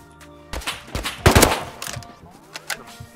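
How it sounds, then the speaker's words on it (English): Suppressed AK rifle in a video game, firing a few sharp, muffled shots close together with short gaps between them, followed by quieter thuds and impacts. "That took 3 shots, by the way, on a naked with AK."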